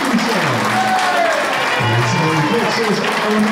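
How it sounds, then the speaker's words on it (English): Applause from the audience at an amateur boxing club bout fills the room, a dense steady clapping close by, with a voice talking over it. "Let's give these two a massive round of applause again."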